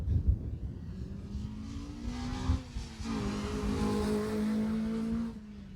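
A BMW rally car sweeps past on a Jersey Rally stage, its engine note rising and holding steady as it nears, loud and close, with gravelly road noise under it and no talk.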